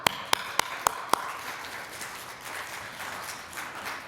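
Audience at a 35th anniversary ADA celebration for LIFTT in Billings, opening with a few sharp, evenly spaced claps, then a softer sustained patter of crowd clapping fading into the room.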